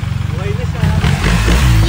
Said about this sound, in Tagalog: Sobrang saya ko nang marinig kong umandar muli ang aking motor.